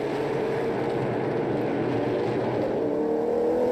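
Stock cars in a NASCAR Pinty's Series race roar as a continuous engine drone with slowly rising pitch, heard from a distance in a steady wash of track noise without speech.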